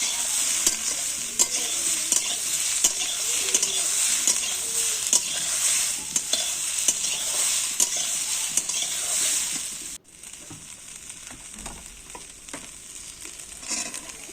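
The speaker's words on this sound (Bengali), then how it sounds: "পেঁয়াজটা একটু হালকা ভাজা ভাজা করবো" Chopped onion fries with beans in a pan for a Bengali fish curry. A loud, steady sizzle runs throughout, with frequent scraping stirs, and drops to a quieter hiss for the last few seconds.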